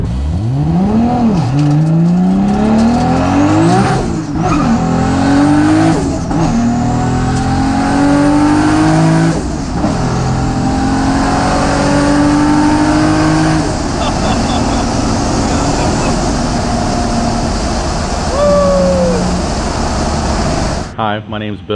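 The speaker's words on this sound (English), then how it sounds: "The drive shaft making that noise? That's the Tilton triple disc clutch." A 1000-horsepower 1994 Toyota Supra Turbo with a 3-liter engine, six-speed gearbox and Tilton triple-disc clutch makes hard highway pulls, its engine roaring loud and rising through several gear changes before backing off, heard close from inside the car.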